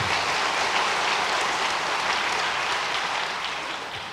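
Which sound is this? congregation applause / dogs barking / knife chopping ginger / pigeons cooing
congregation applause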